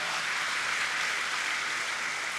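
Steady applause from an audience at an indoor spiritual talk, a continuous even wash of clapping at moderate volume throughout.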